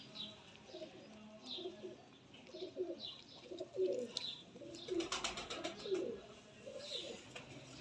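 Two female pigeons coo close by in soft, repeated, throaty bursts at a steady rhythm, with a few light chirps and rustles between calls.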